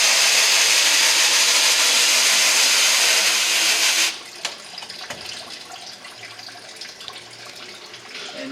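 Water sprays from a hose, rinsing soft emulsion off a silkscreen stencil; the loud, steady spray runs for about four seconds and then cuts off, leaving quiet room noise.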